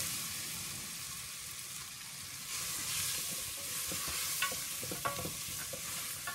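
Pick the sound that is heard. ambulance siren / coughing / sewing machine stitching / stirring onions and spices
stirring onions and spices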